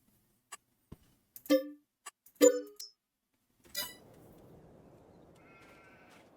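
Two short sheep bleats in Farming Simulator 22 stand out against quiet clicks and ticks, followed by a soft, steady background hiss.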